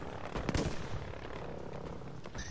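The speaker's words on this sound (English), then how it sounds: "They're shooting at you already." Gunfire in the video game Battlefield V, a cluster of sharp shots near the start followed by steady crackling distant fire and battle noise.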